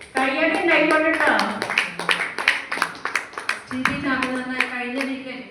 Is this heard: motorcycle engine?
no